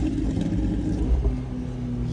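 A straight-piped McLaren 720S rumbles with deep, uneven exhaust burbles and low pops, close and loud, heard from inside the car.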